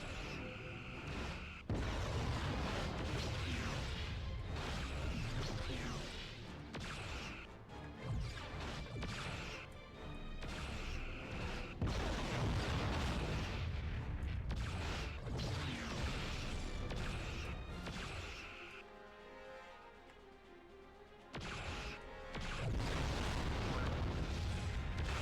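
Weapons fire and explosions from the 2006 PS2 Star Trek Encounters space battle form a dense, continuous roar of booming crashes and blasts, dipping briefly near the end before surging again.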